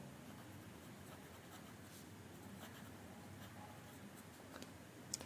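A sentence being handwritten during a Bengali-to-English translation lesson: a steady, soft scratching of writing strokes with small ticks, continuous for about five seconds and close by.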